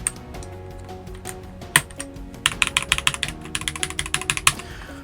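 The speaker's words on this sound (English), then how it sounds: "So these are really thin keycaps, and I mean, they sound as such." Rapid clacky typing on the thin keycaps of an Akko 5075 mechanical keyboard, sparse keystrokes at first, then a dense, brisk run of close, crisp clicks.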